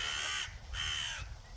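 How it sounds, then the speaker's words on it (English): A crow caws twice at an allotment garden, each call a harsh, drawn-out rasp, close and clear against a quiet background. "Hello, Mr. Crow."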